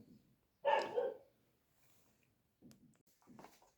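A dog barks once loudly nearby, then gives a couple of fainter, softer barks a few seconds later, with quiet pauses between.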